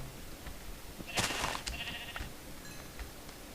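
A Minecraft sheep bleats once, a short wavering cry in the middle of quiet game ambience, with no talk over it.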